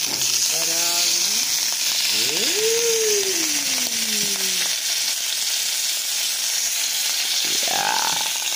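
Butter sizzling in a pot for old-school country popcorn, a constant bright frying hiss with a few squeaky tonal scrapes over it.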